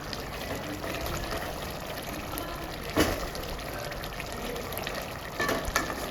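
Hyderabadi mutton biryani masala is stirred in a pan, giving a soft continuous frying hiss broken by an occasional sharper scrape of the spoon.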